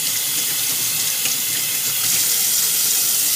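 Kitchen tap water runs steadily while rinsing jackfruit filling for stuffed plantain cups, a loud continuous hissing splash with no speech.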